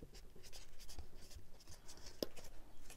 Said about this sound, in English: So you're just going to do some scoring.